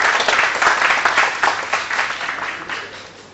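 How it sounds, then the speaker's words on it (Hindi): Applause from an audience at a talk on housing redevelopment: dense, sustained clapping from many hands, steady and fairly loud, tapering slightly toward the end. "ताली में कंजूसी मत करिए।"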